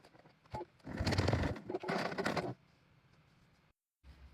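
A sewing machine sews a basting stitch across a scrunchie wristlet keychain, giving two close bursts of rapid whirring with small pauses between them, followed by quiet clicks and a brief stop near the end.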